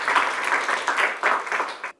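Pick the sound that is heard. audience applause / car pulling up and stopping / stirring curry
audience applause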